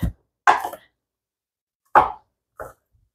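Four sharp chopping knocks with pauses between them, a knife striking a board as it cuts through yuca root, close and fairly loud.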